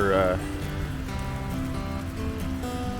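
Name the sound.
rain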